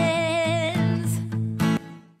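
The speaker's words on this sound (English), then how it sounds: "Waves Tune Real Time lets us do that fast and fun tuning effect" A sung vocal line is run through Waves Tune Real Time set to its fastest note transition, giving a robotic, stepped pitch-corrected effect on a short phrase, heard clearly on its own.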